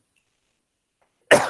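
A single sharp cough bursts out near the end after more than a second of near silence, close and fairly loud, with no talk around it.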